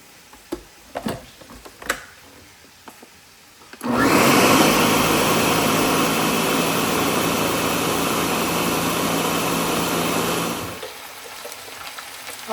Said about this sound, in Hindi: अब दही और प्याज का जो मिक्स है इसको ग्राइंड कर देते हैं इसमें